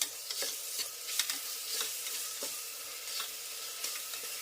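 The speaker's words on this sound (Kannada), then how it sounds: "ಶುಂಠಿ ಬೆಳ್ಳುಳ್ಳಿ ಪೇಸ್ಟ್ ಹಸಿ ವಾಸನೆ ಹೋಗೋ ತನಕ ಹುರ್ಕೋಬೇಕು." Ginger garlic paste sizzles steadily in a hot pan, with a continuous bright frying hiss broken by repeated scraping and stirring strokes of a spatula at close range.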